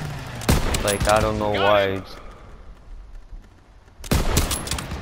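Rapid bursts of rifle fire ring out in the World War II shooter Call of Duty WW2, loud cracks opening and closing a stretch where someone talks over the fighting.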